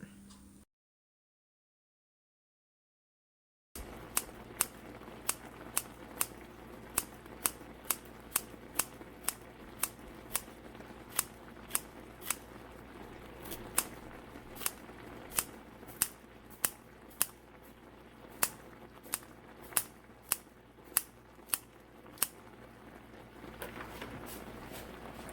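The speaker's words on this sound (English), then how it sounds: "I'm gonna cut some green onions in it" Green onions are snipped with scissors over Korean tteokbokki, a close series of sharp, crisp cuts in a quick, steady rhythm that comes after a few seconds of silence, with no talking.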